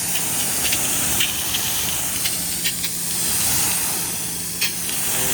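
Water spray hissing steadily across a ceramic-coated car during a DIY first rinse, a continuous close broadband rush with small spattering bursts and no talking.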